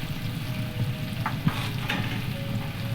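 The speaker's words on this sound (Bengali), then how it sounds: "কুমড়োটা এই ঢাকা দিয়ে দিয়ে ভাজতে থাকবো।" Pumpkin pieces fry in oil in a covered pan, giving a continuous close sizzle with a few soft stirring knocks and scrapes against the pan.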